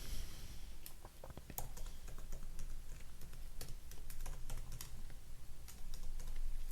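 Fingers type a name on a computer keyboard, with a run of quick, uneven key clicks close by and nobody talking.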